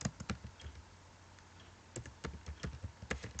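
Typing on a computer keyboard while entering an answer into an FAQ section on a WordPress site: bursts of close, crisp key clicks with a quiet pause between them, no talking.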